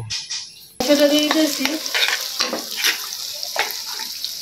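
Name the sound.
onion and garlic frying in a pan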